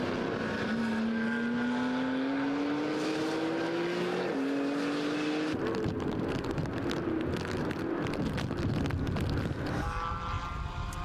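GT race cars powering out of a corner at the Jerez circuit during a winter series round, engines rising in pitch as they accelerate, loud and close, with a second car following and wind noise over the microphone.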